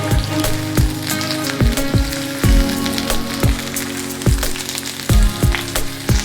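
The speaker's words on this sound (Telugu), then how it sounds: "ఈ కాకరకాయ ముక్కలు బ్రౌన్ కలర్లోకి వచ్చే వరకు వేయించుకోవాలి" Bitter gourd pieces fry in hot oil with a loud, continuous crackling sizzle broken by frequent sharp pops, close up and with no voices.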